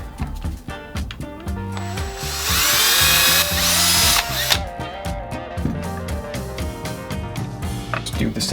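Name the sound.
drilling holes for the LEDs with a power drill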